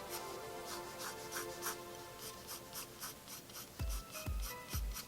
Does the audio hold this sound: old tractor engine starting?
no